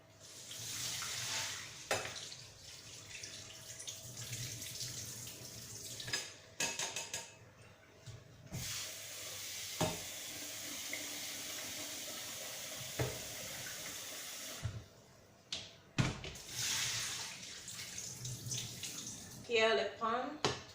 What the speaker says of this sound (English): I drain out the water.